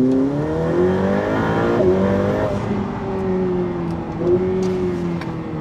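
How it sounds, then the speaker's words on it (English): A Ferrari F8 Tributo in race mode accelerating at full throttle, its engine note rising loud and smooth through a gear change, then climbing again from inside the car. "So that was just a small pull. It was full throttle, that was in race mode."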